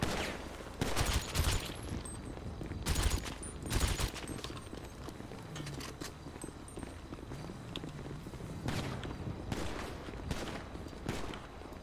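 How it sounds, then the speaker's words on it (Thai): Gunshots fired into a corpse in a shooting game, several sharp loud bursts of rapid shots separated by quieter stretches of movement and footsteps. "ฉันยิงซ้ำที่ศพมันนะคะ"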